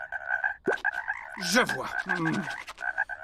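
Cartoon frog croaking in a comic animated scene about frog dissection, several croaks standing out over a steady musical tone, with a short line of speech.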